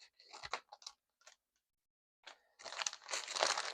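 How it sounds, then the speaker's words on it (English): Close crinkling and tearing of an Amazon paper mailer as its top flap is cut off, scattered short crackles, a pause, then a longer sustained rustle. "So you'll just cut that flap off the top there."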